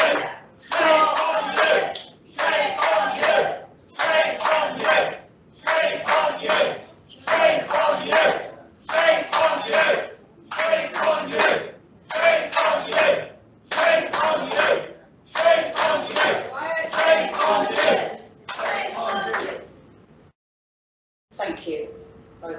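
Members of the public at a council cabinet meeting shout and clap together in a steady, rhythmic pattern of about thirteen loud bursts, each roughly a second and a half apart. The noise stops abruptly near the end, leaving a short silence.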